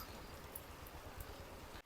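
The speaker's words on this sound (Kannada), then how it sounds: "ಮಳೆನೇ ಸ್ಟಾರ್ಟ್ ಆಯ್ತು ಗುರು" Rain beginning to fall on an ordinary hot day, a steady broadband patter of drops holding at an even level for under two seconds before cutting off abruptly.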